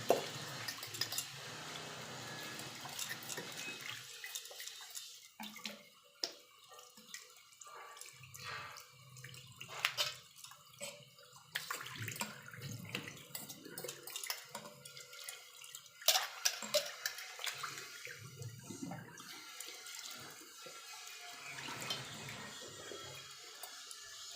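Steel kitchen utensils being washed under a running tap, water splashing and clattering irregularly against the metal in a sink, close by with no voices.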